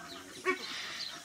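Pheasants kept outside an aviary enclosure squawk at feeding time, a couple of harsh honking calls spaced about a second apart, close by and fairly loud over a quiet outdoor background.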